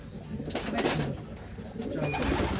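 Several chocolate-coloured pigeons coo close by in a pigeon loft, low throaty calls overlapping against a steady background rustle.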